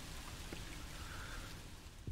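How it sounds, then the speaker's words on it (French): Rainwater dripping and trickling through a grate in the horror video game Song of Horror, a steady wash of falling drops with a few sharper splashes, continuous and moderately quiet, with no talking. "la grille où il pleut de la flotte, c'est celle où ça fuyait dans le sous-sol"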